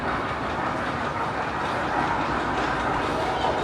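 A roller coaster train at Chessington World of Adventures rumbles past with a steady, loud roar and rattle that holds throughout, with no clear break.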